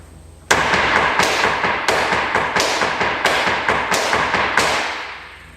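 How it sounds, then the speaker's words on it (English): Flamenco heel taps pound a wooden floor, three to each palma clap, in a fast, even, unbroken run of loud, close percussive strikes. "3 sounds of the heel for every palma"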